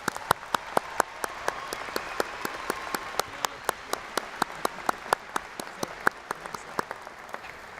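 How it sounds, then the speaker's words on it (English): An audience at a university fall commencement ceremony applauds the volunteers, a steady bed of crowd clapping with one loud nearby pair of hands beating a sharp, regular rhythm on top. "Please join me in showing our appreciation with a round of applause for their efforts."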